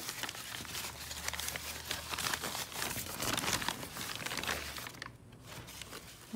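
Packaging around a mail-order succulent plant crinkles and tears as it is unwrapped one-handed, a close, continuous rustle with crunchy bursts that eases off near the end.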